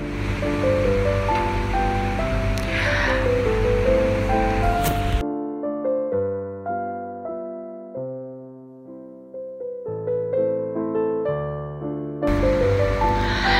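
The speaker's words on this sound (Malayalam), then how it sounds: "ബീറ്റർ വെച്ച് നമുക്ക് സിമ്പിളായിട്ട് വേഗം തന്നെ ബീറ്റ് ചെയ്തെടുക്കാം" An electric hand beater whips cream in a bowl set over boiling water, a steady whirring hiss at the start and again at the end, with music playing in between.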